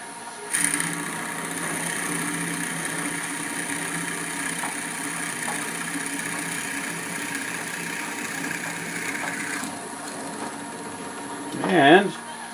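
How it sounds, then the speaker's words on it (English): A wood lathe spins at about 900 rpm while a drill bores a hole into a small wooden miniature birdhouse. It gives a steady, moderately loud mechanical whine and hum, with a brief rising squeal near the end. "I'm going to turn this up to about 900, and then I'm going to drill it out because we need to have that hole in there"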